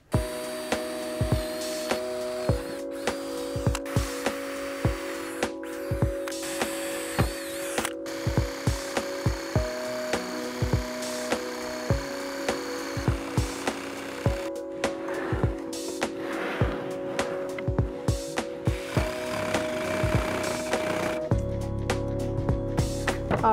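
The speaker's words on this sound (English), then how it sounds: "with a jigsaw, I'm gonna cut all the way around" A jigsaw buzzes steadily with a droning whine, cutting a sink hole in a bathroom countertop in repeated short bursts separated by brief pauses, loud and close.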